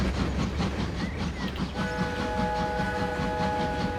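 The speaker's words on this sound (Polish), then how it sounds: "Ładny pociąg." Freight train in the video game Transport Fever 2, including a wagon of timber, rumbling steadily past with rhythmic clickety-clack wheel beats and a sustained whistle-like tone joining partway through.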